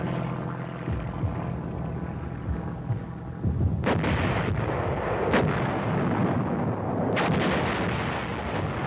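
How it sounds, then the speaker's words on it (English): Army artillery fires during the Korean War, a loud, rumbling barrage with several heavy booms cracking out over a continuous low roar. "Army artillery pounded away incessantly while the tanks got in position to add their fire."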